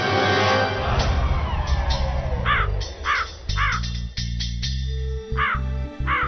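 A crow caws repeatedly in short nasal bursts, loud and close, over a busy bed of music and cartoon-style sound effects.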